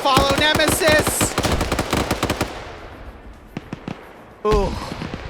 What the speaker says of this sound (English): That grenade is gonna follow Nemesis!